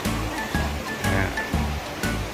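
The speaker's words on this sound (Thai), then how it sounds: "มีเสียงน้ำของลำธารที่ไหลอยู่" A creek flowing at night beside a house in Mae Kampong village, Chiang Mai, a steady broadband rush of moving water with a faint rhythmic pulse, fairly close and continuous with no voices.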